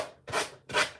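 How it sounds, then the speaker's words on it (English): The edge of a decoupage piece is sanded with two quick downward strokes, close and clear, each a short rough rasp with a pause between. "Where you just go around the edge, sanding in a downward motion."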